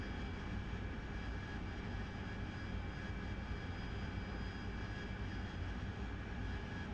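Harrier jet engine roaring steadily during night air-to-air refueling, a continuous loud broadband drone with a faint high whine and no breaks.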